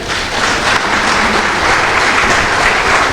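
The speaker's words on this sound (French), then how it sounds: "vous lever pour applaudir chaleureusement un visionnaire, Monsieur Iya Mohamed" Delegates at a FECAFOOT general assembly in Cameroon give a dense, sustained round of applause, a loud, even wash of many hands clapping together without a break.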